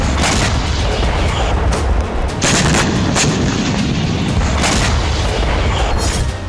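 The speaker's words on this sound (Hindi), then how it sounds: "ये खान यूनुस से आए दूसरे हमले का वीडियो है जिसमें हमास के कमांड सेंटर पर रॉकेट गिराए गए।" Rocket strikes hit a command center in Khan Younis, a continuous roar of heavy booming with repeated sharp blasts punching through a dense rumbling wash, loud and unbroken throughout.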